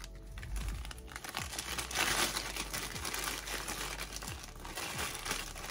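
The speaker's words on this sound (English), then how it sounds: "Grab a little bit of this forest moss." Dry forest moss crinkles and crunches as it is pulled and handled for a Vietnamese centipede cage, a close, continuous rustling with soft tearing textures and no talk.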